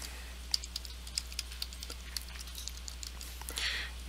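Light typing on a computer keyboard, scattered soft key clicks at an uneven pace over a quiet steady hum.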